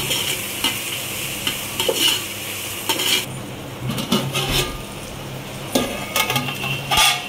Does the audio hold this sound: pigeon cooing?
no